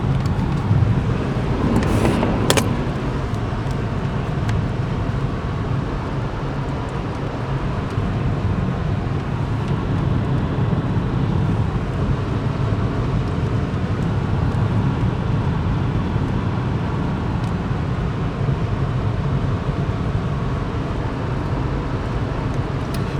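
Steady low road rumble of a car cruising along a highway past a flooded river, with continuous tire and wind noise and a brief sharper transient near the start, no talking.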